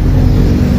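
A Toyota 5K engine idles steadily close by, a continuous low rumble with an even, unbroken drone and no speech over it.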